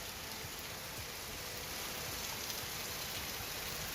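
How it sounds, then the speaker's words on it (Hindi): Heavy monsoon rain in Motihari, India, a dense, steady hiss of downpour with constant even texture, moderately loud and uninterrupted, no voices. "अभी आप मोतिहारी की तस्वीर देख रहे हैं जहां पर झमाझम बारिश दिख रही है।"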